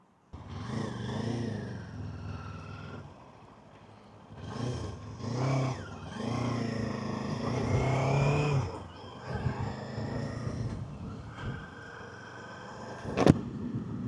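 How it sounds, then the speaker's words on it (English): Kawasaki KLE500 SE dual-sport motorcycle being ridden. The engine revs up and falls back several times through the gears, with wind and road noise between the pulls, ending in a short sharp knock. "Let's get on the bike, let's take it for a ride."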